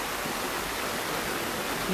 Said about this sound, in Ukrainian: Оце йде дощ і ще й воду набираємо